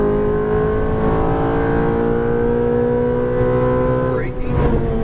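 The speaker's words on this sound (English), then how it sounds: "Upshift." Ferrari F430 on a track, engine revving loudly and steadily in the cabin through an upshift, with a brief dip and change in tone near the end.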